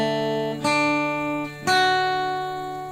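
Fretted guitar strings ring out in sustained tones, with two separate plucks or strums about a second apart. Each one sounds clear and close, then decays slowly with no talking.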